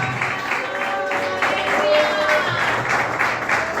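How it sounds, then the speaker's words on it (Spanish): Church audience applauding during a sermon, a dense continuous patter of clapping that stays steady and fairly loud throughout, with some crowd murmur underneath. "Dale un aplauso."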